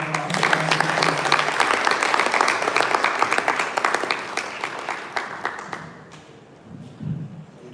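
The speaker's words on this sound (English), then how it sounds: "Please give him a round of applause." Audience at a banking summit awards ceremony applauding: dense clapping that holds strong for several seconds, then thins into scattered claps and fades, with a brief low murmur near the end.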